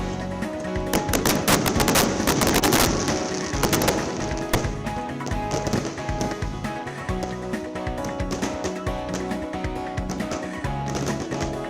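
A fireworks display at a gurudwara, with dense bursts of crackling and popping that are loudest early on, then keep going as a steady rattling barrage.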